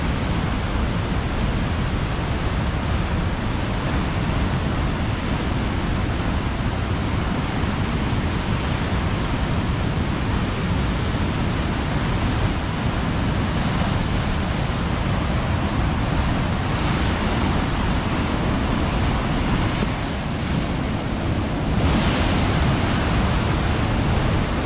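Large ocean waves break steadily along the rocky Mendocino coast, a continuous loud wash of surf with wind buffeting the microphone and no voices.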